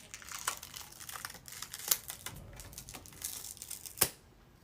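Liquid latex special effects makeup peeled and ripped off skin, giving close crinkling, tearing rustles with a few sharper snaps, no talk.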